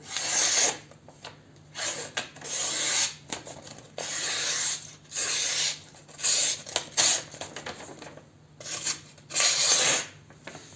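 A Mora Classic 2 knife slices through paper up close, giving a run of about ten rasping, scratchy strokes with brief pauses between them and no talking.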